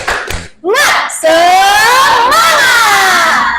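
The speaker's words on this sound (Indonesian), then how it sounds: "Bisa tepuk semangat?" Indonesian junior high school students at SMPN 1 Kalianda perform a 'tepuk semangat' chant in class, a loud crowd of young voices shouting together in a sustained burst after a brief lull.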